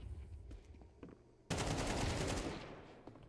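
Counter-Strike 2 gunfire: faint scattered shots at first, then a sudden loud sustained burst of rapid automatic fire that tapers off toward the end.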